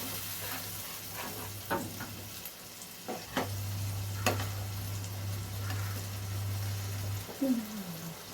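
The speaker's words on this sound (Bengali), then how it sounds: "এবার এটাকে একটু নাড়াচাড়া করে নিয়ে আঁচটা কমিয়ে দিতে হবে, যেন মশলাটা পুড়ে না যায়।" Spice masala for Dhania Egg fries in a pan with a steady sizzle, broken by scraping clicks as a spoon stirs it several times, under a low background hum.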